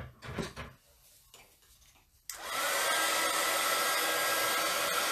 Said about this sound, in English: then I'll get the heat gun